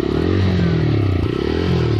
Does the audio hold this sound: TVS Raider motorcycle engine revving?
yes